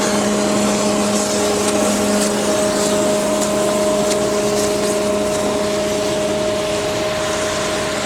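A fan gun snowmaker at a ski resort blasts snow at 30 gallons a minute, a loud, steady roaring whoosh with a constant tonal hum from the fan, heard up close and unbroken throughout.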